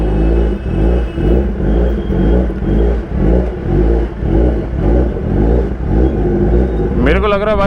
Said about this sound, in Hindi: इतने लाउड एग्जॉस्ट से भाई मैं तंग हो गया।